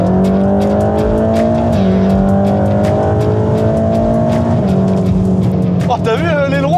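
A Mercedes-AMG GT drives with a loud, steady engine drone that rises and shifts pitch as it accelerates, close and dominant throughout, with a brief voice near the end.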